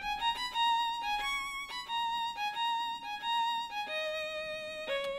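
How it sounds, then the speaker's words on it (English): Stradivari virtual violin from Kontakt playing a plucky, staccato melodic line of bright repeated notes with shifting pitch, soft and alone without talking. "I'm getting the Stradivari violin from Contact, and it sounds pretty sick."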